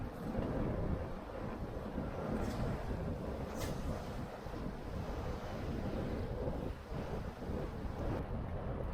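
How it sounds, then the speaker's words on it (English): Strong wind of 12 to 15 knots roars while a Catalina Capri 26 sails on Lake Ontario with a reefed mainsail and headsail. The gusting wind buffets the microphone loudly and continuously, with water and boat noise underneath and no talking. "At least 12 to 15 knots of wind outside here."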